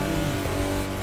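Koenigsegg Gemera hypercar at very high speed, a loud steady engine roar with dense wind and road noise filling the whole second, no letup in intensity.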